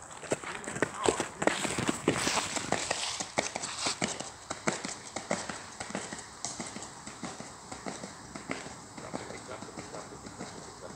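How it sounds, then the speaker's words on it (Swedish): A horse walks past in a rural Swedish field setting, hooves clip-clopping in a steady, fairly close rhythm while people talk over it. "den här hästen som kom sist nu"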